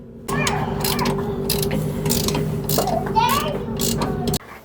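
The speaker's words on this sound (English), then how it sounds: "the next step is going to be removing the upper front shock bolt" A ratchet wrench loosens the upper front shock bolt, a 17mm nut on a 16mm bolt head, on a G5 rear suspension, making a steady run of close mechanical clicking and grinding over a low hum, with faint voices in the background.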